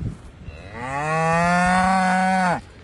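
A single cow gives one long, loud, close moo that swells and holds for nearly two seconds before cutting off, with no other sound around it.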